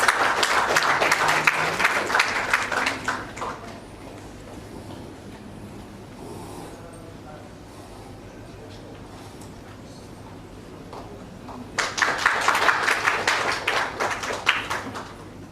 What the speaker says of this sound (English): So can we have a please round of applause